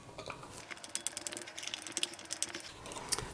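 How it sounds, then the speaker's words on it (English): Claw screws on a budget electric guitar's tremolo are loosened with a hand tool, making rapid, light close-up ratcheting clicks in an irregular run, with no talking. "then just loosen the claw screws here"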